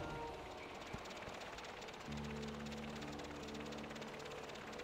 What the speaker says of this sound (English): Using the recovered gyrocopter, kill 25 hose and gut rippers. Okay, so we're going to fly a little helicopter.